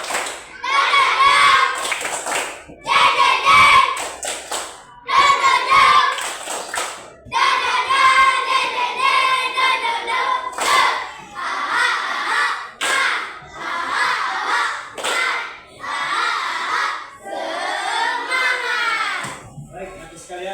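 An Indonesian school class performs 'tepuk semangat', a spirit clap: bursts of rhythmic group clapping in set patterns, interleaved with children's voices chanting along, close and lively in a classroom.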